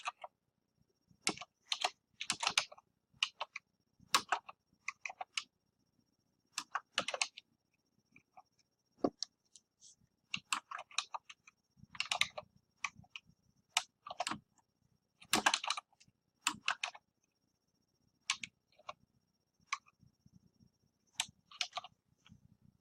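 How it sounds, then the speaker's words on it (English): Computer keyboard typing in irregular bursts of quick, close, crisp key clicks separated by short pauses, alone in a quiet room without any talk. "And let me type and then I'll talk."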